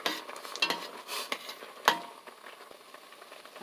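A spoon stirs bean sprout soup (kongnamul guk) in a pot after dashida seasoning goes in, giving quiet, uneven scrapes and a few sharper clinks over a faint background hiss.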